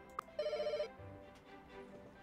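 A telephone in the video game Pets Hotel rings once with a burst of rapid electronic trilling, preceded by a short click and followed by low quiet background noise.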